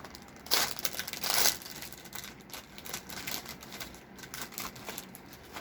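Small flat plastic bags from an online shopping haul crinkle and rustle as they are handled and stacked, with two louder bursts of crumpling early on, then softer intermittent rustling, close up.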